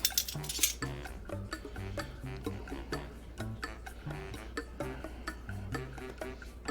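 A teaspoon taps and clinks repeatedly against a dish as onion powder is added to a beef jerky marinade, a steady run of light metallic ticks close by.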